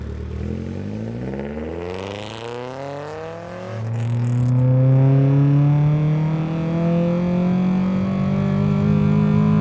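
A Nissan Silvia S15 Spec-S engine with a cat-back exhaust revs hard to 7,000 RPM, climbing steadily in pitch, loud and close, with a brief crackling pop from the exhaust partway through.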